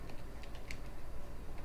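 Keys clatter on a computer keyboard in a short burst of light, irregular taps, quiet and close against a steady background hiss.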